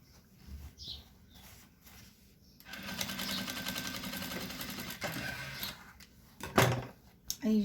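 A sewing machine stitches a fabric cosmetic bag in a continuous whirring run of several seconds, with quieter handling clicks and rustles before and after it.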